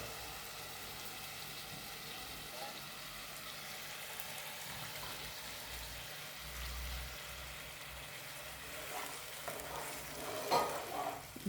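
Water poured into bhagar cooking in a pan, giving a faint, steady sizzling hiss with soft stirring scrapes that build into a few louder clatters near the end.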